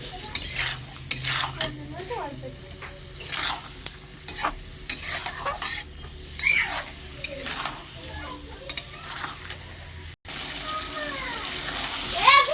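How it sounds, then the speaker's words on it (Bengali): Potatoes with peas, chopped tomato and a little water are stir-fried in a pan, with repeated metal spatula scrapes and clinks over a steady sizzle. The hiss swells louder after a brief drop near the end. "পরিমাণ মতো জল দিয়ে আর একটু অল্প একটু জল দিয়ে ভালো করে কষে নেব"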